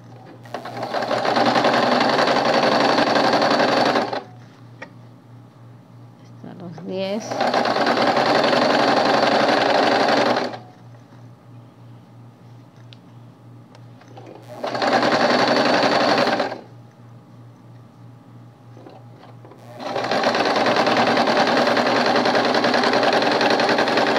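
A sewing machine stitches a coat pattern in four loud, steady bursts of rapid whirring, separated by quieter pauses with a low hum.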